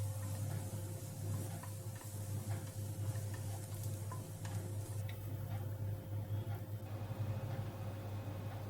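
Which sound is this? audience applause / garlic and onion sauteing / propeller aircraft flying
garlic and onion sauteing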